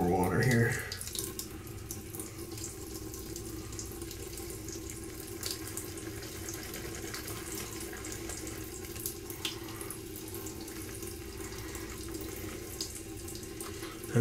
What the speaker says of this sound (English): A little bit more water here.